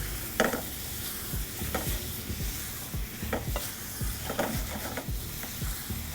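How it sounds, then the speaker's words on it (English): Apple pieces cook in caramel and spice in a pan, a soft steady sizzle broken by occasional spoon stirs and scrapes, quiet and close. "And we're going to just cook it out until our apple are fully cooked"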